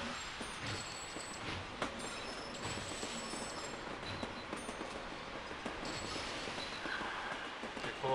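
A train hauling iron ore wagons rolls along in Sid Meier's Railroads, a quiet rhythmic clatter of wheels over rail joints with faint squeals, steady and fairly soft throughout, no talk.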